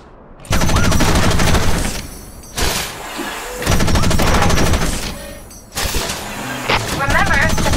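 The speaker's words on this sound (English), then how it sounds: "Remember to fire your machine gun in bursts to avoid overheating." A Wanzer mech fires its machine gun in Front Mission Evolved. Three long, loud bursts of rapid gunfire are separated by brief lulls, with scattered game sound effects in the gaps.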